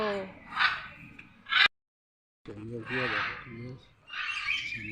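Harsh, raspy scarlet macaw squawks, loud and close, a few bursts separated by a short silent gap, with a voice mixed in among the calls.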